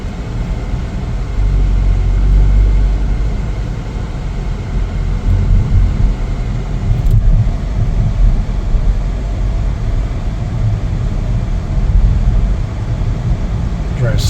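A 2024 Chevrolet Trax 2RS drives on a road, heard from inside as a loud, steady low rumble of engine and road noise, with someone talking over it.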